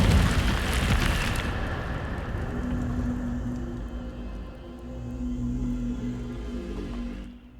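A fiery Incendio spell bursts out in Hogwarts Legacy: a loud, bright whoosh at the start that settles into a rumbling roar with a low steady hum beneath, slowly fading away.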